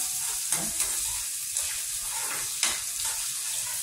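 Eggplant curry fries in hot oil in a pan, a steady soft sizzle with a few stirring scrapes, faint and continuous.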